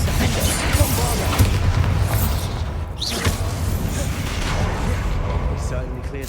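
Booming spell blasts and crashes in the Hogwarts Legacy video game, heavy continuous rumble and bursts mixed with battle noise while a voice speaks over them.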